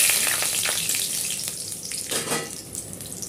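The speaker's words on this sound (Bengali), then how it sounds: "এবার ওই তেলে আমি দারুচিনি, লবঙ্গ, এলাচ দিয়ে দিলাম, সাথে তেজপাতাটাও দিয়ে দিলাম।" Cinnamon, cloves, cardamom and a bay leaf sizzling and crackling in hot oil, a bright close frying hiss with small spattering pops that eases slightly over a few seconds.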